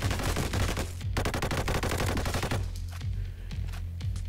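A gun in an energy-assault shooter video game fires in rapid, close, loud automatic bursts, with a brief pause partway through before slower single shots follow.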